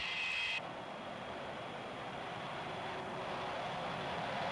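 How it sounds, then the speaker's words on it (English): A Nimrod jet-powered long-range maritime patrol aircraft, derived from the Comet 4, flies overhead with a steady, loud broadband jet roar that holds evenly throughout, with no voices. "the Nimrod was and remains the only jet-powered long-range maritime patrol aircraft in military service"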